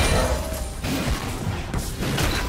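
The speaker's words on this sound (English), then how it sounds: "team's turret has been destroyed" A turret being destroyed in League of Legends, a heavy crashing boom with rumbling debris that fills the whole stretch, dense and loud over constant game noise.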